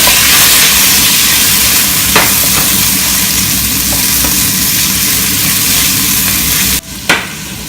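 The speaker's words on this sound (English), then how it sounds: "The onions are starting to brown. Now I'm going to throw in the peppers." Peppers tossed into a pan of browning onions give a loud, steady hiss of sizzling up close, with a few brief stirring clatters and a sharp knock near the end.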